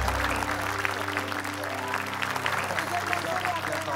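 Applause from a studio audience during an Indonesian television quiz show, a steady dense patter of clapping heard close over a sustained low music bed for the whole stretch.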